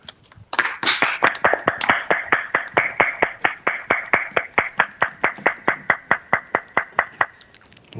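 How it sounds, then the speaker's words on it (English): After a comedy set at a New York event, an audience bursts into brief clapping and then settles into loud, evenly spaced rhythmic clapping in unison, about three beats per second, fading slightly near the end. "One more round of applause for Tom Shillue."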